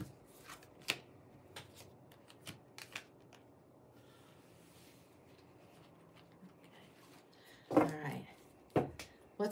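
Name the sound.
shuffling tarot cards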